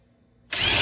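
DeWalt drill powered by a Hercules battery, speed 3 in drill mode, driving a 1/2 by 5 inch screw: silence, then the motor kicks in abruptly and whirs loudly and steadily at close range.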